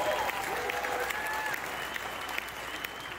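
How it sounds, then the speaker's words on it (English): An audience at a real estate business talk gives a round of applause, an even, crowded patter of clapping at moderate distance, with a faint voice threading through it. "Give a round of applause"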